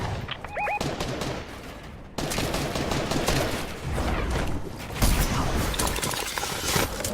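A combat shotgun fires repeatedly in a video game, loud dense blasts and crashing impacts in a busy barrage that jumps louder partway through, with a brief chiming effect early on.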